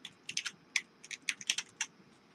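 Brisk typing on a computer keyboard while searching in Windows 10, a quick irregular run of close, crisp key clicks with no talking.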